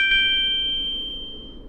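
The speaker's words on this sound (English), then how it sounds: "And there is notification from my bank." A phone notification ding from a bank alert, a single bright chime struck once near the start, its tone ringing on and slowly fading over a low background hum.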